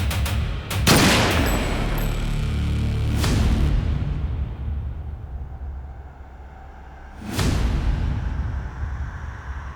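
Loud gunfire in a tense Hindi television drama scene: a sharp blast near the start, another around three seconds, and a third burst later, each with a booming tail over a low rumbling background, no talk.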